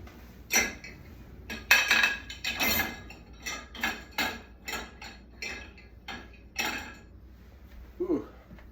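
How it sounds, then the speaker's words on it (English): Dishes and cutlery are loaded into a dishwasher, giving a series of sharp clinks and clatters spaced about every half second to second, close and fairly loud against a quiet room. "Throw a few dishes in the old dishwasher."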